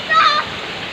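Cold water of Palale Falls in Malinao, Albay, pounding down onto a person's body: a brief loud splashing burst over a steady close rushing roar.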